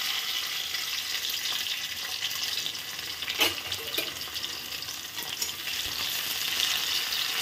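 Chopped tomatoes sizzle in hot mustard oil in a wok, making a constant close hiss with brief louder pops and the stir of a spatula midway.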